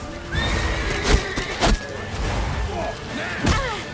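A horse in The Witcher 3 neighs and whinnies amid game sounds, with a few thuds and clopping hooves, a steady tonal hum and intermittent voices in the mix.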